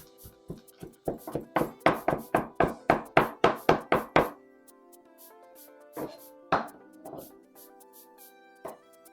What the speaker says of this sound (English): I'm just gonna rough chop this.